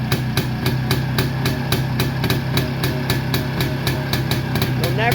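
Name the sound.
two-stroke motorcycle engine idling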